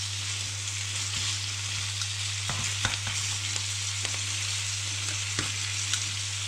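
Venison chops fry in a pan with a steady, close sizzle and crackle, broken by a few sharper pops and spits, and nobody talks.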